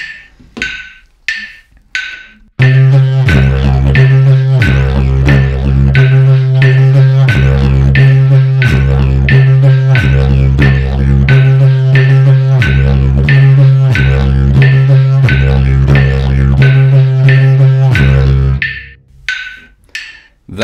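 A didgeridoo drones in a steady pulsing rhythm at 90 BPM, deep and loud, with metronome clicks ticking alone before and after the playing.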